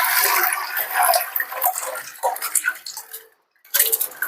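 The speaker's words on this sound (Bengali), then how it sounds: "এই জলের মধ্যে আমি যে 30 মিনিট ভিজিয়ে রেখেছিলাম চালটা, সেটা জল সমেত আমি এর মধ্যে দিয়ে দেবো।" Soaked rice goes into a chicken biryani pot together with its soaking water, making splashy, trickling pours and patters with a short pause near the end before the pouring resumes.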